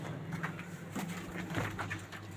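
Pigeons coo softly and repeatedly, low throaty calls layered over a muffled, noisy background.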